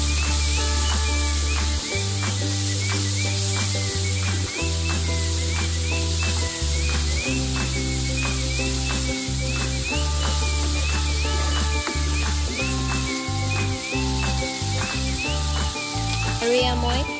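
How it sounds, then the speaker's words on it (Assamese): Chopped tomatoes and curry leaves fry in a pan while Maggi masala noodles are being prepared, giving a steady, continuous sizzle that sits beneath loud, rhythmic background music with no talking. "মই কাটি থোৱা বিলাহীখিনি ইয়াতে দি দিছো বিলাহীটো সিজালৈকে ভাজিব"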